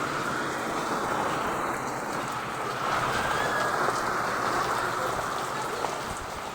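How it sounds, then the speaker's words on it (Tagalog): Steady rain pattering on surfaces, a continuous dense hiss with no voices, holding even from start to finish. "Umuulan."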